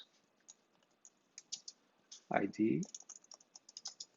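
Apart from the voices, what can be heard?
typing a for loop on a computer keyboard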